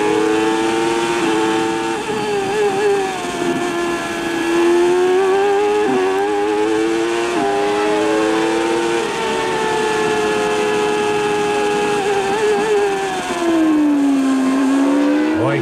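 A 1994 Formula 1 car at the Spanish Grand Prix screams at high revs, its pitch dropping abruptly with each rapid gear change, several quick shifts in succession before a long downshift swoop, loud and continuous.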